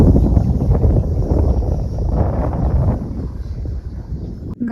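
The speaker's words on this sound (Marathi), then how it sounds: "छान वारा सुटलाय, मस्त वाटतं एकदम." Morning wind blows steadily on the hilltop at Shivneri fort, a loud broadband rush buffeting the microphone throughout with no speech.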